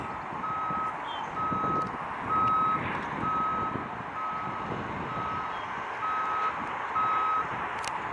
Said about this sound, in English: You hear that truck backing up.